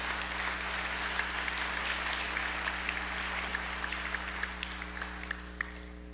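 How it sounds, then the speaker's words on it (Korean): A church congregation gives a warm round of applause to welcome a guest preacher, a steady, moderately distant clapping from many hands over a low constant hum. "우리 한번 마음을 담아서 뜨거운 박수로 한번 환영하도록 하겠습니다"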